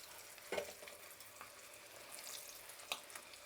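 Dried red chilies fry quietly in oil with dal and asafoetida for pulihora tempering, a low steady sizzle broken by a couple of soft stirring clatters.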